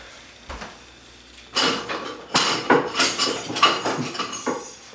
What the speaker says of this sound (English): And whisk your eggs together.